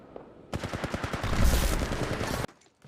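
Automatic gunfire from the mobile battle royale game Apex Legends Mobile, using energy ammo: a loud, dense burst of rapid shots lasting about two seconds, then an abrupt stop.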